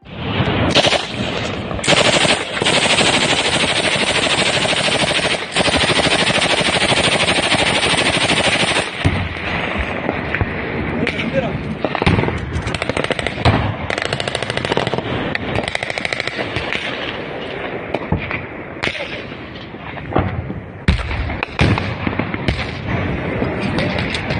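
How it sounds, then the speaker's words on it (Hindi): Sustained bursts of automatic gunfire in a news report of a border clash between Pakistan and Afghanistan, loud and continuous rapid crackling for the full length, densest early and then ragged with brief gaps, with no talk. "इस वीडियो में दोस्तों आप साफ तौर पे देख सकते हैं कि पाकिस्तान और अफगानिस्तान के बीच तड़तड़ा के गोलियां चल रही हैं"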